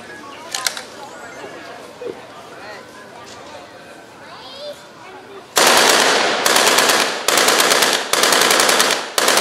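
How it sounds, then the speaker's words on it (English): A German MP-40 submachine gun fired at a weapons demonstration: several loud, rapid automatic bursts in the second half, preceded by quieter outdoor ambience with someone speaking. "Demonstrate is a MP-40 German submachine gun."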